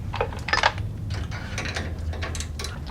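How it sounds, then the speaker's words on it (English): A 12mm ratchet wrench loosens a sway bar link bolt at the frame of a fourth-generation Toyota 4Runner. It makes close, repeated bursts of mechanical clicking and ratcheting with no talk. "I'm actually going to disconnect it from the frame back here too with a 12mm wrench as well."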